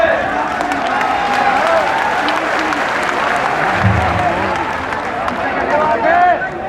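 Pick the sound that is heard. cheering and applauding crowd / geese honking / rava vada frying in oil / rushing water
cheering and applauding crowd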